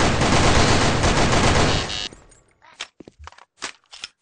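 Rapid automatic gunfire from the online shooter Sudden Attack roars loud and continuous for about two seconds, then breaks into scattered short bursts and isolated shots.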